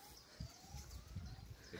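A siren wails faintly in the distance, a thin wavering tone under rustling and footsteps moving through undergrowth outdoors.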